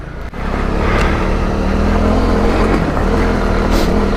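A Honda CRF250 Rally motorcycle is ridden off road on slippery ground, its engine droning loud and close, steady with slight revving throughout, with wind noise over the microphone.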